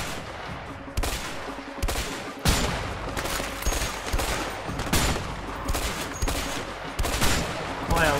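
Gunfire from a jungle shootout in the game A Way Out: repeated bursts of shots at irregular intervals, loud and close, with no talking.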